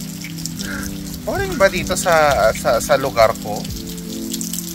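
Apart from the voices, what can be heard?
rain falling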